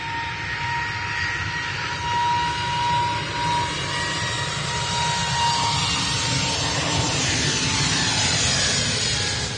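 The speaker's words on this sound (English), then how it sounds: "EasyJet is off to Belfast." An EasyJet jet airliner departs for Belfast, its engines giving a loud, steady roar that holds through the whole stretch with no voices.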